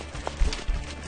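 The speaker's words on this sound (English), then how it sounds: "The endurance riders and their horses take on challenging trails." Horses' hooves thud on a trail during endurance riding in the upper Minnesota River area, a few muffled clip-clop beats over a low outdoor rumble.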